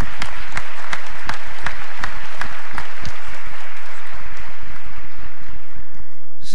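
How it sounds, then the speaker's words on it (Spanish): Audience at an inauguration ceremony applauding to welcome a speaker: loud, sustained clapping from a large crowd, with a few sharp individual claps standing out near the front. "os pido un fuerte aplauso para José María Álvarez Payete"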